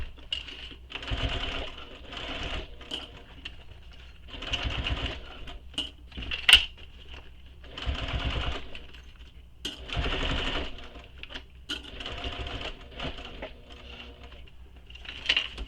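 A sewing machine stitches a bound bowler bag in bursts of rapid mechanical whirring, several runs separated by short pauses and faint handling clicks, close and clear without talk.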